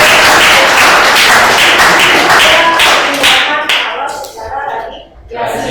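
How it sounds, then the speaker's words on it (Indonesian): Loud, close rhythmic hand clapping from a high school physics class, a rapid run of sharp claps that tapers off into a few scattered final claps. "Tepuk tangan."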